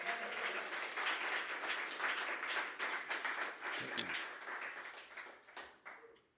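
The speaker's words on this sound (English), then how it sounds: "I want to give a round of applause to Robert, who's doing the sound tonight." Audience at a Society Hall concert applauding the evening's sound engineer, a moderate patter of clapping from a modest crowd that tapers off toward the end.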